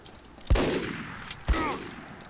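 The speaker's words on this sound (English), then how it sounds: "I almost shot you in the head in midair." Two sharp gunshots in Team Fortress 2, about a second apart, each a loud crack with a short ringing tail and nothing else around them.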